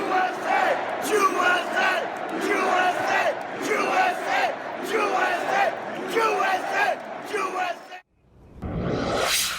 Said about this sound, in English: The crowd was chanting USA.